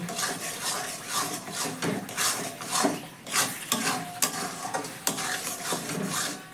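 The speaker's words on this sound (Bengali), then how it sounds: "এবার এই মশলাটা এর মধ্যে দিয়ে দিচ্ছি। দিয়ে দেওয়ার পর খুব ভালো করে মিশিয়ে নিতে হবে।" A coarse, grainy spice mix is stirred by hand into raw mango pickle, producing close, irregular scraping and clinking strokes against a bowl in a steady rhythm.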